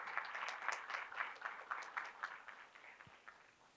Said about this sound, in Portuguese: uma salva de palmas para recebê-la ao microfone